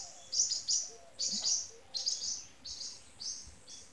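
Small birds chirp near a nest in quick repeated bursts nearby, a string of high tweets with brief pauses between them.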